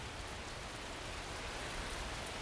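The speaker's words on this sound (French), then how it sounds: "Par moments, le bruit est plus fort, la pluie s'intensifie." Rain falling as a steady, dense hiss of drops on a surface, quiet and even throughout with no voices.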